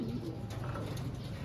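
Pigeons coo in low, soft repeated murmurs close by, a steady overlapping burble with light background noise and no speech.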